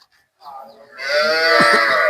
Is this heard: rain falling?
no